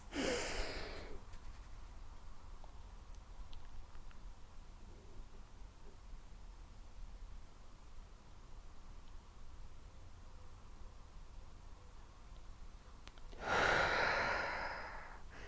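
A person breathes during a lymphatic drainage warm-up and stretching exercise: a sharp audible inhale, then a long silent breath-hold over faint room hiss, ending with another breath sound near the close.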